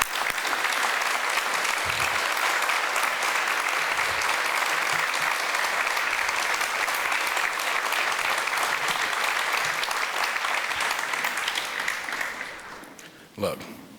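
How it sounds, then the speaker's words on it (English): A welcome event crowd gives the leadership team a long round of applause, dense steady clapping that holds loudly for over ten seconds before fading, with a voice returning at the end. "please give them a round of applause"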